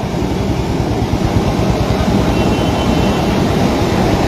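A loud, steady roar of gas rushing from a burst pipe fills the whole stretch, a continuous broadband hiss and rumble with no breaks.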